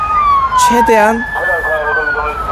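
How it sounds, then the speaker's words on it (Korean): An ambulance siren wails past outdoors, its tone sliding steadily downward as it goes by, while a person speaks over it. "앰뷸런스가 급히 지금 가는 거는 지금 누군가가 위독해서 아파서 그런 건데"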